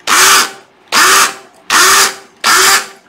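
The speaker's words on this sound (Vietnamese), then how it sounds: "mình thử chế độ búa cho mọi người nghe này" Makita cordless hammer drill running in hammer mode, sounding in four loud, evenly spaced bursts of about half a second each, with a harsh rattling hammer action and a rising motor whine at each start.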